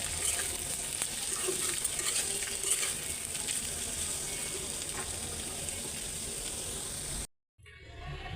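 Sliced bitter gourd with onion and chili frying in hot oil in a home kitchen, a steady close sizzle running for several seconds before cutting off abruptly.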